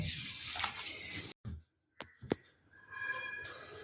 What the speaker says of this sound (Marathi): 2 वेळा पाणी टाकणार आणि स्वच्छ धुवून घेणार.